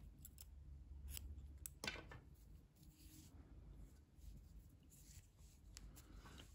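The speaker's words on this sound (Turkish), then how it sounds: "İpliği kesiyorum." Scissors snipping through knitting yarn at the end of a crochet or knitting join, a few close, crisp cuts with short pauses between, quiet and alone without talk.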